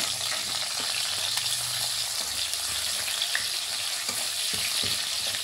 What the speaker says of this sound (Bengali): আর একটু তেল দিয়ে দিয়েছি, এর মধ্যে পেঁয়াজ কুচি দিয়ে দিচ্ছি